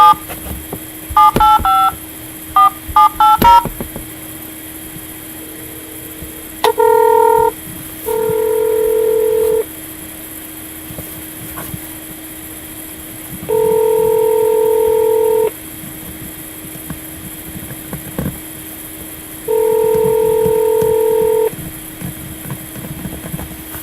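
Telephone keypad tones dialing the Illinois Attorney General's office: quick bursts of dialing beeps at the start, then long repeated ringback tones separated by pauses, clean and alone.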